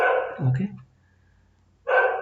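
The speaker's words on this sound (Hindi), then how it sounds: "आज कुत्ते भी भौंक रहे हैं" Dogs outside give a single brief, muffled bark between stretches of indoor talk, sounding somewhat distant and quieter than the nearby voice.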